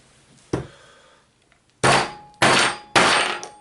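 Four sharp metallic strikes ring out as a double-sided mallet hits a .270 Winchester reloading die, one soft blow and then three hard, evenly spaced hits, each leaving a brief ringing decay.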